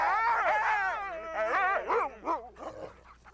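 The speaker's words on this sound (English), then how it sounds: "or ride on a dog sled." Sled dogs at the Jungfrau terminus high in the Swiss Alps, giving a continuous run of loud, close howling and whining yelps that waver in pitch before breaking into shorter barks near the end.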